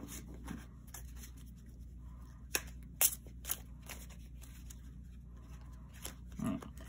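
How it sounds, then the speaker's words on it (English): A few quiet riffles and snaps of poker-sized tarot cards being shuffled, sparse and soft, over a faint background hum. "I love shuffling poker or bridge-sized cards"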